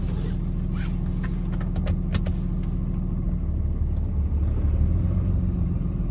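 Car fitted with a Valair organic single-disk G56 clutch pulling away in first gear, a close, steady low engine rumble with faint rattling and clicks above it.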